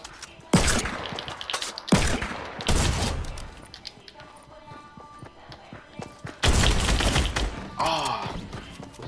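Shotgun blasts in Fortnite, several loud booming shots spaced a second or two apart, with crashing impacts and game effects between them, no talk.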